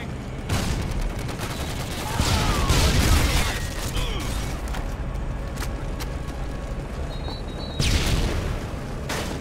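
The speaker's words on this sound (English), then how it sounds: "Friendly Predator missile incoming." Predator missile strike in Call of Duty Modern Warfare: a loud, close, rumbling explosion over sustained gunfire and battle noise, with a second blast burst near the end.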